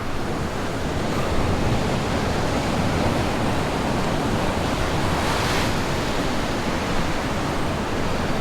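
Ocean waves below coastal cliffs on Lanai make a steady, broad roar of surf with some wind across the microphone and no distinct breaks.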